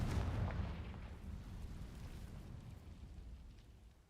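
Confringo fire spell explosion in the Hogwarts Legacy video game, a loud booming blast at the start that rolls into a long rumbling decay over several seconds, with no voices.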